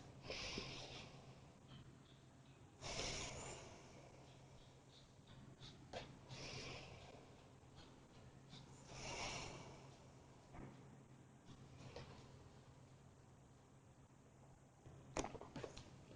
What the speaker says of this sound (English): A few deep breaths.